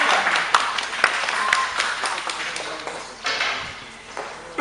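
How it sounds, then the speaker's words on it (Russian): Live audience applause at a cobra show, a dense burst of clapping with a few sharp claps standing out, tapering off briefly before picking up again. "Браво, ваши вас аплодисменты."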